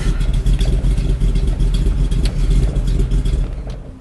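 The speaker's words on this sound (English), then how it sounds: "That little button to the left of the steering wheel by the door is where you turn the engine over." A 1953 Ford F100 pickup truck's engine runs at a steady idle, giving a loud, close, continuous low rumble with an even throb and no voices.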